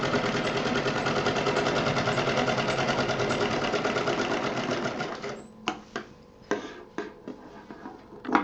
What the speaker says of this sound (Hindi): यहाँ से इस कॉर्नर को मिला करके भी हम एक महीन सिलाई दे देंगे।